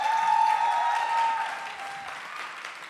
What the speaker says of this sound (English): Can we make some noise for Auntie Di, please?